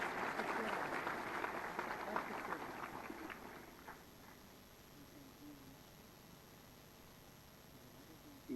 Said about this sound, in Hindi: आप सबकी जोरदार तालियों के अभिवादन के साथ